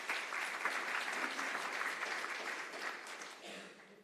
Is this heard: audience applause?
yes